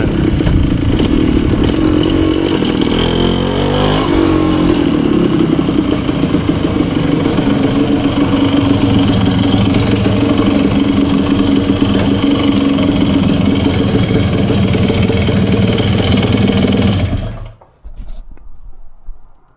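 A Yamaha MT250 motorcycle engine runs after an overhaul, with a loud, steady, close mechanical clatter and exhaust drone that holds for most of the time before cutting off abruptly, leaving a short quieter tail.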